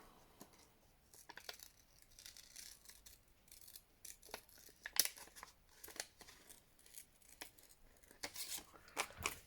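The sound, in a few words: scissors fussy cutting a squirrel from a fabric napkin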